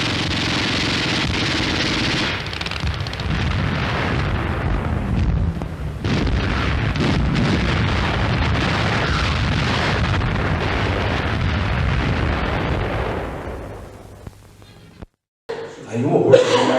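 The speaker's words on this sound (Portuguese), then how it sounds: "Aí o horror do bombardeio" Wartime bombing from archival footage: a sustained, dense rumble of explosions and blasts fills most of the stretch, loud and continuous, then fades out and cuts off near the end before a brief burst of other sound.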